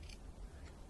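Scissors make a small snip into fabric while sewing a stuffed animal pillow, a brief faint cut heard close against a low background hum.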